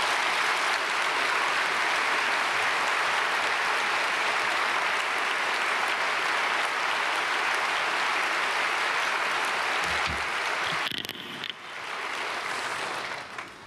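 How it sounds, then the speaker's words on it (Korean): A church congregation at a Wednesday prayer service applauds to welcome a preacher to the pulpit, a dense and sustained wash of clapping from a large crowd that fades out near the end, with no voices heard. "박수로 맞이하겠습니다."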